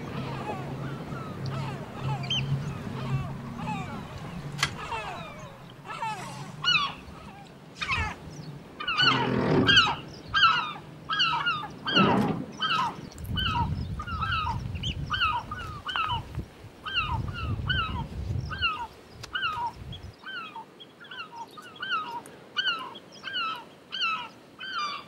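Gulls calling repeatedly in a steady series of sharp cries over a low rumbling background, continuing throughout with a few louder bursts.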